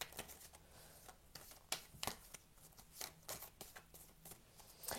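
Tarot cards being shuffled by hand in a series of crisp riffling bursts and soft slaps, close and fairly quiet, with no voices over them.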